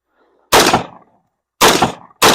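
Three loud 5.56 rifle shots fired at a steel manhole cover, close and sharp, each crack with a short decaying tail; the first two are about a second apart and the third follows quickly, with no talking.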